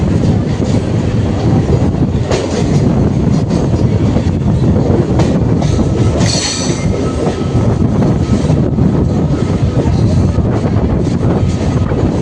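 A train on the run toward Howrah rumbles loudly and continuously as heard from on board, with wheel noise, rattling and a brief squeal, steady throughout.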